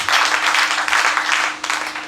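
A church congregation applauds the Lord in a sustained, dense wash of clapping, fairly close and loud, with a brief dip near the end before resuming.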